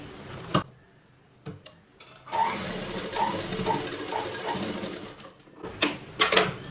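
A sewing machine stitches a blouse hook strip in one steady run of rapid, close ticking for about three seconds, with a few isolated clicks and knocks of handling before and after.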